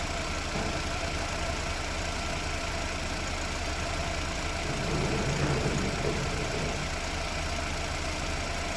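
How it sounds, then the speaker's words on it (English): An Opel Vectra engine idles while warming up, a steady low rumble with a continuous hum and slight rise in the middle, close and unbroken, with no talking. "I'll leave it idle there for a while, leave it warm up."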